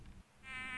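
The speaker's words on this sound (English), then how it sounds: "I heard a bee buzzing." Insect-like buzzing of a bee in a horror video game, a steady whine that swells in after a brief dip and holds loud and close to the end.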